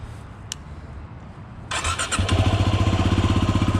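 A motorcycle engine cranks and catches before a night ride, a brief starter whir then the motor settling into a loud, close, rapid throbbing idle, with no talk.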